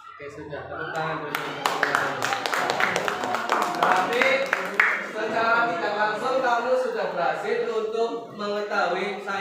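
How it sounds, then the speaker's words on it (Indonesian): A classroom group claps hands together in a sustained burst of many sharp, overlapping claps. The applause stays loud and close for several seconds, with voices and light chatter mixed in. "sudah tepuk tangan dulu"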